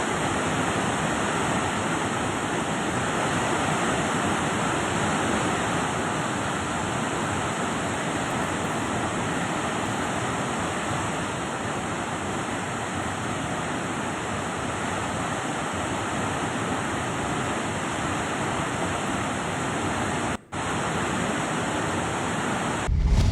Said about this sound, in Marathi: असं वर्णन या धबधब्याचं केलंय आणि त्याचीच प्रचिती हा धबधबा पाहायला मिळतोय